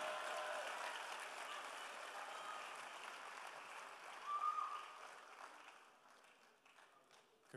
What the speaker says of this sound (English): He's still walking. Keep clapping.